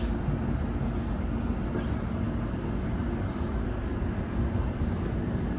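Steady low rumble of a train rolling along near London Road station in Guildford, constant and fairly loud throughout, with no voices.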